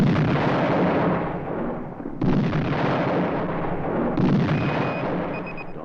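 Heavy booming blasts of an army cannon roll out back to back, with two sharp new reports cutting in, loud and close with a long rumbling tail.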